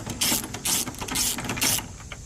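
Ratchet wrench cranking out 8mm headlight bolts on a Mercury Marauder, heard as four bright clicking ratchet bursts in a steady rhythm, close and fairly loud with no talking.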